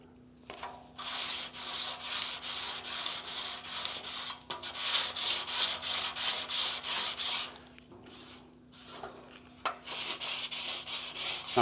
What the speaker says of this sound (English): I'm going to sand this a little bit